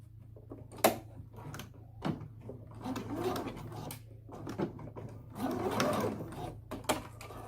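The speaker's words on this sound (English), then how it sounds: "Sometimes what I like to do is just stitch it in place." A sewing machine stitches skirt fabric in place while an 8-panel skirt is assembled, running in short bursts of rapid mechanical whirring separated by brief pauses, with handling clicks and knocks in between.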